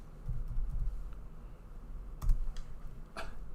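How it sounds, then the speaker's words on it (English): Computer keyboard typing, a few soft scattered clicks and taps in short bursts, quiet and close, with no voice. "If you see me looking like I'm typing, it's because I am."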